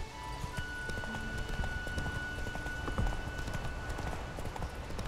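Roach the horse galloping in The Witcher 3 game, a steady fast clip-clop of hooves with a faint whinny, continuous and fairly close over an ambient game backdrop.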